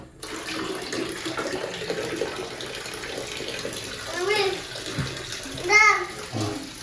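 Steady broadband rush of water running from a tap, continuous throughout, with a voice and an adult speaking briefly over it.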